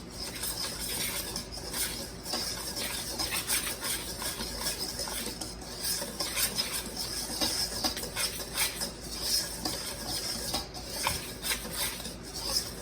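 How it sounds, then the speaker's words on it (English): A whisk beats flour, kosher salt and sugar together in a bowl, a quick continuous scraping and clinking against the bowl sides, close and fairly quiet with no talking. "I'm going to whisk it because that's what I like to do because I don't like to sift."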